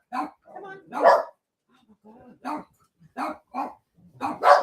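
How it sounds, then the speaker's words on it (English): Several dogs bark indoors in a home, with sharp, close barks coming in bursts of varying loudness, separated by brief pauses. "I've got so many dogs barking."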